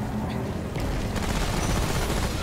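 Dense gunfire from the Remnant: From the Ashes video game forms a continuous, loud barrage of shots and booms that fills the whole stretch without a break.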